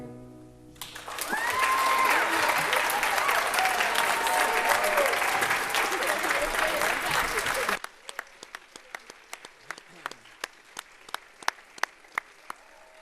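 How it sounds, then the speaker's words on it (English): A concert audience gives a standing ovation after a song, loud sustained applause that swells quickly, then thins into scattered individual claps near the end. "Standing ovation, no less."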